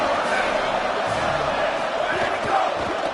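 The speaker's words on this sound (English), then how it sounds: "Crowd getting this defense whipped up on 3rd down" A college football stadium crowd roars steadily for the home defense on third down, a broad, continuous wall of cheering with a commentator talking over it.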